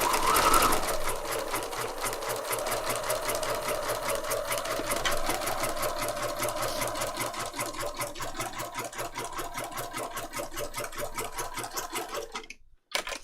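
A sewing machine runs a zigzag stitch in a fast, steady mechanical rhythm close by, continuing for most of the time before stopping near the end.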